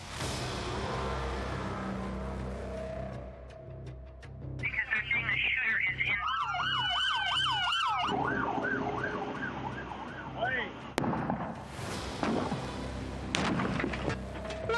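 Police sirens on American city streets wail and yelp in rising and falling sweeps over low traffic rumble, moderately loud and close, with a second siren burst near the end.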